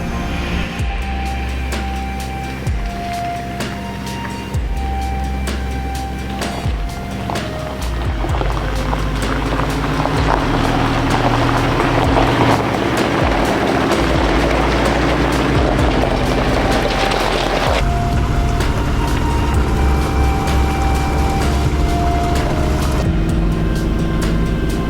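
A V8-engined car drives along an off-the-beaten-path road, a steady loud engine drone with tyre and road rumble and a few tonal shifts as it changes pace, continuous throughout with no talking.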